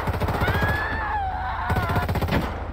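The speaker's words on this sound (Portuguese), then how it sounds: "essa metralhadora tá boa. Um silenciador ainda, ela é melhor ainda." A silenced machine gun in GTA V fires rapid, even thuds across the whole stretch, with a brief pause midway, over a continuous game backdrop and whistling tones.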